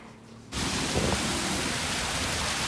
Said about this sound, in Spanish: está lloviendo bastante